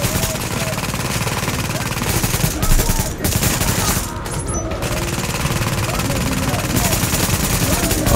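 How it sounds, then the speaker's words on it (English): A turret fires in The Division, a shooter video game, with continuous rapid gunfire and bursts filling the whole stretch at high volume, and a voice speaking over the shooting. "Alright, turret, do your worst!"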